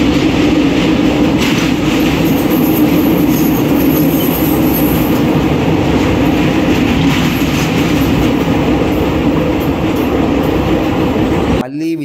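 Tirupati Express running on the Puri to Tirupati route, heard from inside a 3rd AC coach: a steady, loud rumble of wheels on rails with constant broadband roar, holding throughout with no talk over it.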